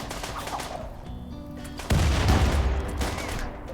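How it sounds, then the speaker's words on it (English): Grenades going off in the RimWorld video game, with scattered rapid gunfire pops early on, then a sudden deep, loud explosion boom that rumbles and fades, close and prominent, with no speech. "The goddamn grenades"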